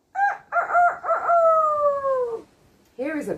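A rooster crows once: a few choppy opening notes, then a long, loud, near drawn-out call that slides downward and stops, followed by a short start of another call.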